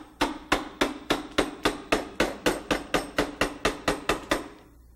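Steady mallet taps on a flat number 5 carving gouge cutting into wood for an American eagle carving, about sixteen sharp evenly spaced strikes, close and fairly loud, with no talking.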